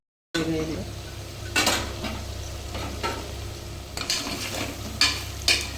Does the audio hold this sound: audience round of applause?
no